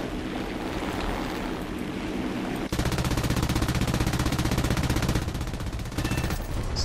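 An aircraft machine gun fires in War Thunder during ground-attack play over a Russian airfield battle, a dense continuous rattle that kicks in sharply partway through over steady engine drone.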